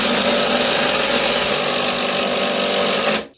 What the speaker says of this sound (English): It has 3 different hammers that hit this and it almost acts like a hydraulic driver.